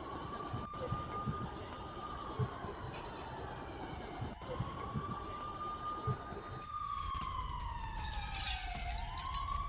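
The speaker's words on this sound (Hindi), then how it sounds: "हमले के बाद कीव में सायरन बजने लगे।" Air raid sirens in Kyiv wail in long, rising and falling tones after a Russian attack, with several sirens overlapping against distant city noise and a low crowd murmur.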